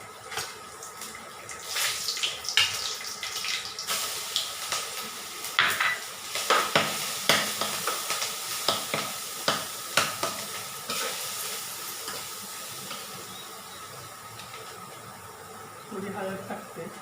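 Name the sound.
garlic, curry leaves and chili sizzling in hot oil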